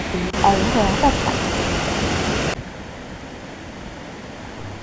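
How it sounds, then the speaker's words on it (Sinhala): Puna Ella waterfall at Ramboda, Sri Lanka, splits into two streams and pours with a dense, steady rush of water, loud at first and then dropping to a softer, more distant roar. "පුදුම ලස්සන ඇල්ලක් ඇලිත් දෙකක් කඩාගෙන හැලෙනවා"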